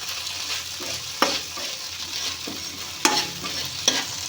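A pan of okra stir-fry (bendekayi palya) frying with a steady sizzle while a utensil stirs and scrapes, giving a few sharper clinks against the pan; close and fairly quiet, with no talking.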